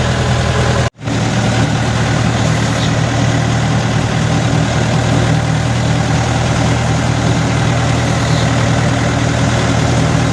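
Moroz pumpkin combine harvester with a 2000 mm pickup driving to the field, its engine droning loud and steady up close with a brief dropout near the start and no talk.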